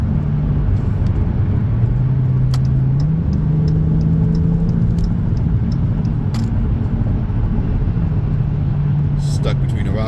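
A car engine in an Atari Jaguar racing game drones steadily, its pitch stepping upward as it speeds up around a truck, with someone talking over it throughout.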